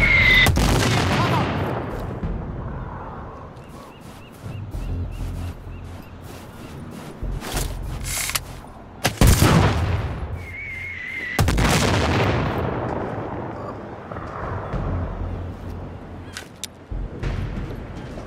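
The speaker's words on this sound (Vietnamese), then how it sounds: "We have enemy fire somewhere near." Enemy gunfire in a video game: repeated heavy bursts and rattling volleys come in waves with short lulls between them, mixed with booming impacts and sustained background noise, and no talking.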